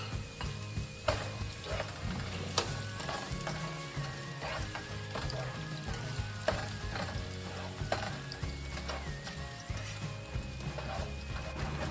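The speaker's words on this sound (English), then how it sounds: "I'm just gonna add shallots. And I'm gonna let it cook for a few minutes without browning" Shallots cooking in a warm pan for an omelette, a continuous close sizzle with occasional clicks and scrapes of stirring, no voices.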